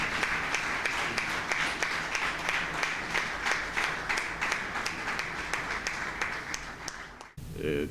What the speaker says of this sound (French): Messieurs les officiers d'intervention, mettez-vous debout quand vous applaudissez